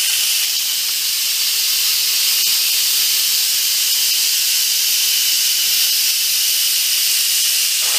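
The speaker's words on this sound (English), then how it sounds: "Now we're releasing the steam." Steam vents from a Cosori pressure cooker in a steady, loud, close hiss that holds unbroken throughout, with no talking over it.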